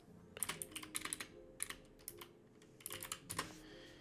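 Soft, quick keystrokes on a computer keyboard come in uneven bursts of clicks close to the mic in a quiet room, with no one talking.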